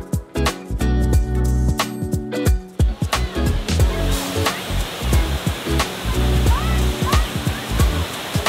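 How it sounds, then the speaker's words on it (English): Waterfalls at Tahquamenon in Michigan's Upper Peninsula give a steady, broad rushing roar of falling water, with voices and some tonal sounds over it early on. "let's go check out the waterfalls"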